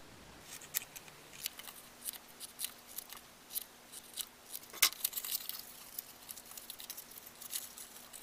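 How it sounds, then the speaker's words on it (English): Scissors snip through wrapping paper with a reindeer print, cutting a gift box bottom: a close, crisp run of separate cuts and trims with a faint steady hum underneath and no talking. "Vertical cut, trim away corner, narrow up what's left."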